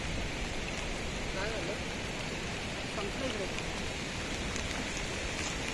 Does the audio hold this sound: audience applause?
no